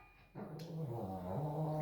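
A dog whines and whimpers up close in a continuous, wavering, high-pitched cry lasting the whole moment, with no talk over it.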